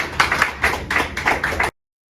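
Rhythmic clapping from a church congregation in bursts, roughly steady beats, close and fairly loud, stopping abruptly.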